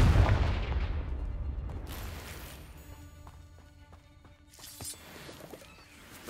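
Confringo fire spell blast in Hogwarts Legacy: a loud booming burst at the start that decays into a long rumbling tail, followed by scattered fainter game effects.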